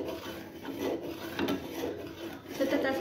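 A spoon scrapes and stirs milk in a pan over a gas flame while the milk thickens into khoa, giving a continuous rasping rub with soft repeated strokes, close and moderately quiet.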